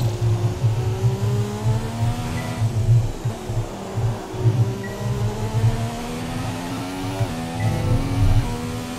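Race car engine from the F1 2017 video game, a McLaren Honda on the Japan GP track, drones steadily with shifting revs and rising, falling pitch throughout, loud and continuous with no talk.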